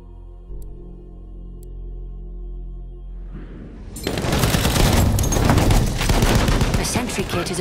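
Sustained machine gun fire in a war video game: dense, rapid bursts that erupt after a few seconds of low droning tones, loud and continuous to the end with no talk over it.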